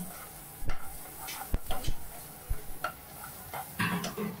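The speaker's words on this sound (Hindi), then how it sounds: "फिर इसमें डालूंगा एक टेबल स्पून बेल पेपर. इसको सौते करना है ना?" A tablespoon of bell pepper sautéing in a pan, with soft sizzling and a few sharp stirring clicks and scrapes spaced irregularly, close and fairly quiet, no talk.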